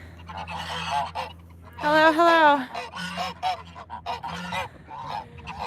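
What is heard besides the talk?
geese honking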